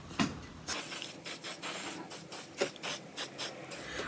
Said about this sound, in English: I'm going to spray a bit more spray on it